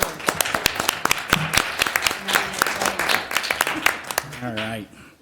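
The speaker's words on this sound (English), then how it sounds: "let's give that guy one last round of applause" City council meeting audience giving a round of applause, a brisk burst of many hands clapping close by that tapers off, with a voice speaking at the end.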